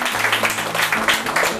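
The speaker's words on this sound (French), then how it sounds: "si on peut l'applaudir vraiment pour son engagement" An audience claps at a French public university literary event, a short burst of applause blending with murmuring voices and a low background hum.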